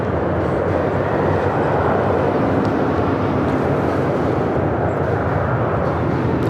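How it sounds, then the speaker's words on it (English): A United Airlines Boeing 737-900ER takes off at LAX, heard as a steady, broad jet roar that holds constant and unbroken throughout, fairly loud and somewhat distant, with no talk over it. "That was United Airlines flight 1276 heading to Cancun, Mexico with that 737-900ER"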